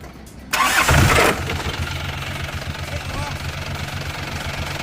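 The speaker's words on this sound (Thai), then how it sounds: "เครื่องมีไอหน่อยๆเดี๋ยวมารอดู ตอนฟังเสียงเครื่องกันนะครับ" An Isuzu Mangkorn Thong (Dragon Eye) cab pickup engine cranks briefly and fires up loudly, then settles into a steady, rumbling idle close by.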